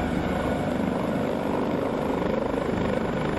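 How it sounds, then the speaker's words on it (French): An AS565 helicopter lifting off in the X-Plane 11 flight simulator, a steady loud rotor and turbine drone holding constant throughout, with no talk. "on va décoller gentiment, en augmentant le pas du collectif progressivement"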